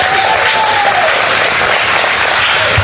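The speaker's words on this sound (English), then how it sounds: "Y'all give him a hand clap." A congregation claps for a camera operator in a church service, a loud, dense and steady burst of applause filling the room with no talking over it.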